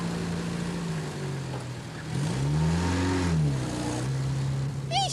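A car engine revs and pulls away, the rising and falling drone swelling midway and then holding steady, loud and close with no talk over it.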